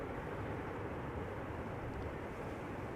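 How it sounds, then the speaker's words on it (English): A 17-year-old Embraer 195 long-range airliner arriving at Amsterdam Schiphol gives a steady, even broadband roar, fairly faint and distant and unchanging for the few seconds heard. "Regular Embraer 195, not an E2. Embraer 195 long range,"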